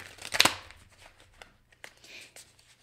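Tarot cards being shuffled by hand during a card reading, a dense riffling burst near the start followed by softer, scattered card slaps and flicks, quiet and close with no talking.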